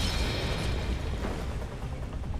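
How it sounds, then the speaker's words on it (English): Explosion in the video game Honkai Star Rail: a dense rumbling burst with crackling debris, loud and sustained throughout the short stretch. "Cool people don't look at explosions."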